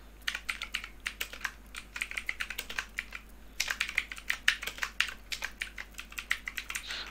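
Page name being typed on a computer keyboard: a steady run of quick, close keystrokes in two bursts, with a short pause in between, alone with no voices.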